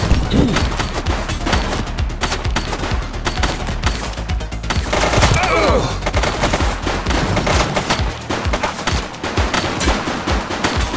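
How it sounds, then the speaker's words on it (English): Rapid gunfire during a police shootout in The Precinct video game, dense overlapping shots and bursts continuing loudly throughout, with faint voices beneath. "Shots fired!"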